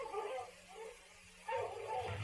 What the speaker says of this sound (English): The dogs, Pa!